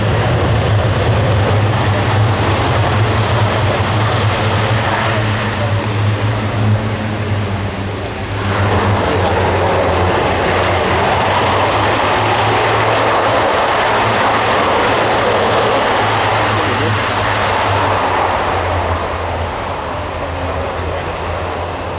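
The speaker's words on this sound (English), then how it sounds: "As the propeller's going to reverse pitch and the aircraft backs up down the runway" Airbus A400M military transport turboprop at an air show, engines roaring loud and steady as the propellers reverse pitch and the aircraft backs along the runway, a deep continuous drone with a brief dip partway through.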